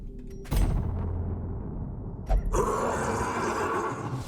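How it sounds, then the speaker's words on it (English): A plow horse enemy in modded Darkest Dungeon whinnies loudly after a sharp thump, followed by another impact and a burst of bright, noisy effects in the game soundscape. "Plow horse."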